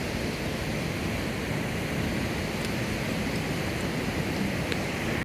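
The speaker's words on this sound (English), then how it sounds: "Check out this waterfall." A tall waterfall on the Salkantay trek in the Andes gives off a steady, dense roar of rushing water, even and unbroken throughout, with no voices.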